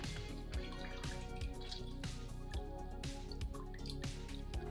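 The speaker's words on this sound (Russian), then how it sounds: "У меня лимон с косточками, поэтому выдавливаю его через ситечко." Half a lemon squeezed by hand through a small strainer into water, with wet squishing and a run of steady close drips and trickles falling into the liquid, quiet and without talking.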